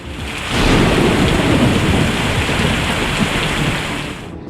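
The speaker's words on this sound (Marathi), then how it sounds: "वादळी वाऱ्यानं वेग घेतला आणि काही क्षणात गोंदिया जिल्ह्यात अवकाळी पावसानं जोरदार हजेरी लावली" Heavy unseasonal rain driven by stormy wind lashes down in Gondia district, a dense, loud, continuous roar that swells after the first moment and holds steady to the end.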